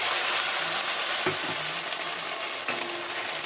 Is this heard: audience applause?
no